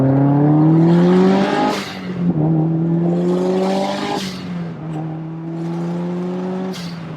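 A road-legal Subaru Impreza STI Spec C WR Limited rated at 360 bhp revs hard as it accelerates. The engine note climbs steadily through the gears in loud, sweeping pulls, with brief dips at each quick shift, heard from inside the car with no talk.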